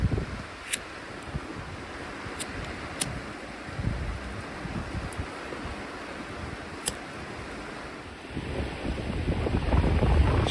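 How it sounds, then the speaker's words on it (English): Strong wind buffets an outdoor spot while an alcohol stove burning rum is being lit, a steady broadband roar with gusting rumble throughout that swells louder near the end, with no talking. "This wind is going to be an absolute nightmare."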